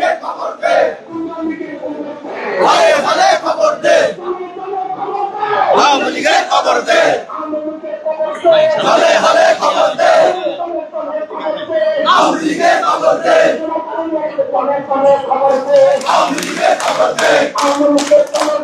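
Students on a protest march at Dhaka University demanding an Awami League ban chant slogans in call-and-response, a loud crowd of voices in rhythmic bursts with scattered clapping, close and continuous.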